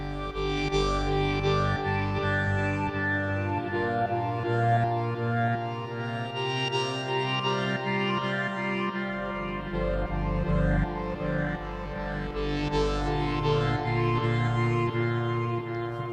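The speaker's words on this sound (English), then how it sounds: "And now with the space echo." Synthesizer played through a Boss Slicer SL-2 pedal with a space echo effect, producing continuous rhythmic chopped tones with trailing repeats, loud and close with no talking.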